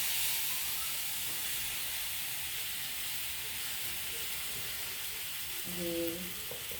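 Boiled pasta going into a hot pan of spicy, seasoned mix, giving a steady close sizzle and hiss throughout, with a brief louder burst near the end.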